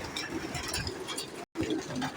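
Soft cooing of white and black pigeons in the open desert, low murmuring calls over a faint background hum, broken by a brief dropout.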